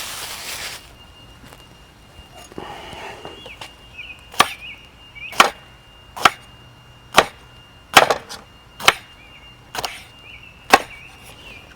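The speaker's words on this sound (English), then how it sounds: "And I'm going to cut some jalapenos." A knife chops jalapenos on a cutting board while making New Haven style pizza, about nine sharp, evenly spaced chops ringing out clearly and close up, with no talking over them.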